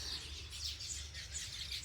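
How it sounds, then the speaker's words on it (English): Weaver birds chirping at their nest in a date tree, a steady flutter of high, overlapping tweets and calls that stays fairly faint throughout, with no talking. "The weaver birds, they all go inside and now they get this."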